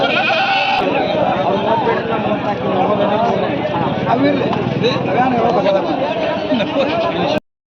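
Young sheep and goats bleat over and over at the crowded Athani livestock market, with overlapping calls near and far and a steady murmur of people talking throughout.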